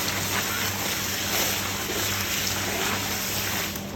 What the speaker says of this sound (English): So we grab this hose, taps over here, turn that on.